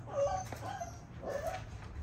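A six-week-old puppy whimpers close by in two short, high, wavering whines, soft and alone against a quiet background.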